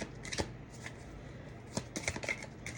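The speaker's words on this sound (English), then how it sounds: "I'm just sitting here shuffling this" Tarot cards are shuffled close by and quietly, with soft riffling flicks and taps in irregular bursts over a faint room background.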